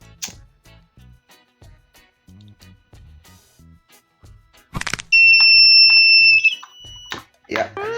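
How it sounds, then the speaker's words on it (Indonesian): An electronic buzzer on an IoT air quality monitor sounds in a loud, continuous, high-pitched tone lasting over a second. Soft clicks and speech come before and after it. "Kita coba nyalainnya si buzzernya. Pastinya rada berisik sih."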